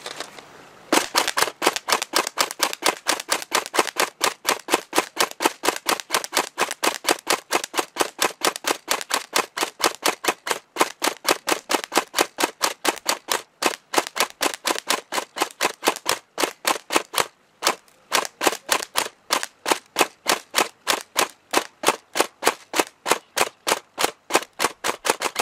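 A Tokyo Marui AA12 airsoft gun with a drum magazine fires a long, steady string of rapid, evenly spaced sharp cracks, close and loud, with a few brief hitches, no talk.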